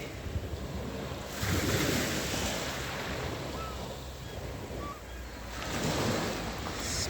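Ocean waves wash and surge in broad rolling swells, mixed with gusty wind noise across the microphone; no one speaks.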